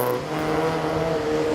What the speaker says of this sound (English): Just listen to the cars going through the Yeomans